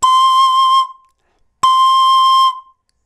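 Pan flute blown with a cracked, torn tone: two long, bright whistling notes of about a second each, separated by a short silence, close and loud with no voices.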